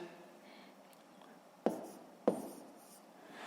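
A pen scratches faintly while long division is written out by hand, broken by two sharp taps about half a second apart, all quiet and close with no talking.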